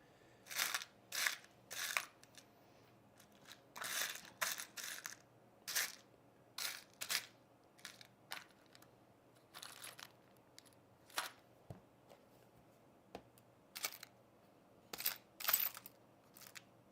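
Screws and washers being rummaged through by hand, a series of quiet, close metallic rattles and clinks in irregular bursts with short pauses, no talk.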